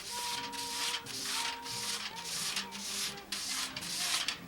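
Aluminum foil is burnished by hand, giving soft, rhythmic rubbing strokes that swish back and forth about once or twice a second, quiet and close.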